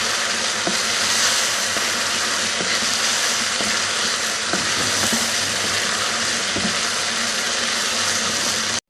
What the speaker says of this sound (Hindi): अरबी को इसके साथ भून लेंगे।